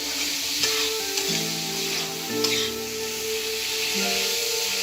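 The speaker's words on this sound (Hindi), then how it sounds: "तो टमाटर को डाल दिया, इसे अच्छे से मिक्स कर रही हूँ मैं।" Tomatoes frying in a pan for chicken curry masala, with a steady close sizzle and periodic scraping as they are stirred, no talking.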